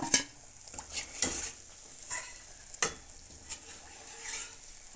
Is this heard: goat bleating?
no